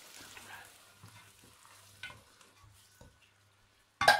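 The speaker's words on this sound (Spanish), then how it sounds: "acá le vamos a aumentar la lata de tomate entera" Crushed canned tomato poured into a pan of salsa criolla and stirred, soft scraping and gentle sizzling strokes at an even pace, with a louder clatter at the end, no voices.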